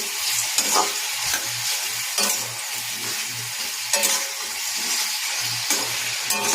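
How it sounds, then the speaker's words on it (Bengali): Chicken stew with tomato and salt being stirred in a pan: steady frying sizzle with repeated scraping stir strokes, close and fairly loud, with a low tonal hum underneath and no talking. "চিকেন স্টুটার মধ্যে তার জন্য আমরা একটা টমেটো দিয়ে দিলাম স্বাদ মতো একটু লবণ দেবো এটা ভালো করে মিক্স করে নেব"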